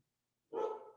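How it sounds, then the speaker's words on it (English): Dogs barking, a single loud bark bursting in midway after silence and trailing off, close and clear with no talk. "Dogs barking."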